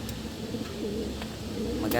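Soft, repeated coos from a pet bird sound close by over a steady background hum, with a brief brighter chirp near the end.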